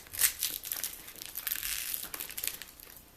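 Paper wrapping crinkles and rustles close up as a package is opened, with irregular crumpling and tearing bursts, fairly quiet, no talk.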